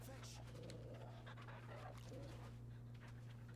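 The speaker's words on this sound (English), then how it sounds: "Pet the dog." A dog panting in a video game, quick rhythmic breaths over a steady low electronic hum, faint and close.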